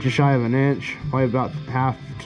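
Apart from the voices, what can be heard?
No distinct noise like a dog, phone or traffic.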